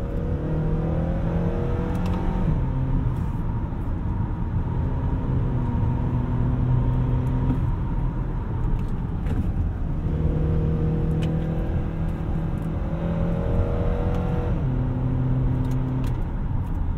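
A 2013 Acura TSX Wagon accelerating on the road with the paddle-shifted automatic held in second gear, engine note climbing steadily in repeated pulls under constant loud road and cabin rumble, heard from inside the car.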